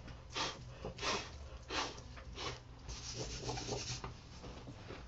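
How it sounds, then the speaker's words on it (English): Breath blown in several short puffs across a paper craft layout coated with shimmer paint powder, to clear loose residue; soft, close, breathy rushes repeating every half second or so. "I'm just going to blow that off."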